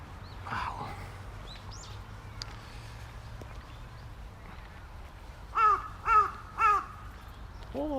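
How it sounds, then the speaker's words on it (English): A crow gives three loud, evenly spaced caws late on a warm sunny day in Tokyo, over faint street ambience and light footsteps. "Oh, it's a crow."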